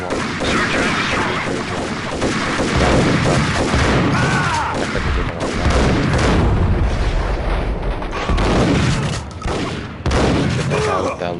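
Gunfire and a grenade explosion from the shooter game Max Payne come as loud, heavy bursts and booming blasts that repeat through the stretch, with a voice talking over the combat.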